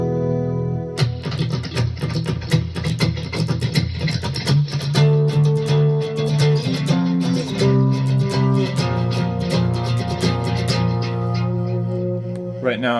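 An electric guitar played through a Strymon Dig dual digital delay pedal, with rapid picked notes and chords repeating in echoing layers, dense and continuous throughout.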